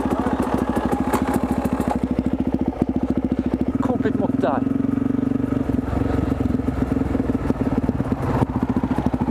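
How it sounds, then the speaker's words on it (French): An enduro motorcycle engine rumbles close by at night, its rapid firing pulses thumping and clattering steadily throughout, with voices talking over it. "Ça en moto de nuit."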